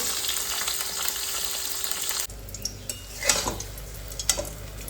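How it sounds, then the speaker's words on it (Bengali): Steady hiss of fish frying in a pan, then a change to lighter sizzling with scattered clinks and scrapes of utensils. "মাছ ভাজা করতে দিয়ে"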